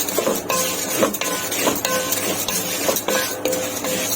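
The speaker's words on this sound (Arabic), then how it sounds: "نحمر الرز، هنحمر الشعريه بقى" Rice and vermicelli stirred and frying in a pot, a steady sizzle broken by repeated scraping clinks of a utensil against metal at a fairly even rhythm, close and fairly loud with no talking.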